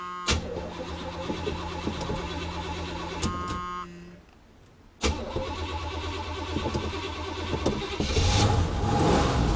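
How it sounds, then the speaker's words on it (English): Car engine cranks with a rhythmic whirring starter, stalls briefly into a quiet gap, then cranks again and catches, settling into a loud steady idle close by. "We're going to see how many times it takes to crank this over."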